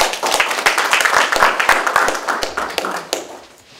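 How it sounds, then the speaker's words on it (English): Spectators at an employee hip-hop competition clap for a contestant, sharp individual claps close up over a busier crowd patter that thins out and fades toward the end. "You guys give her a round of applause."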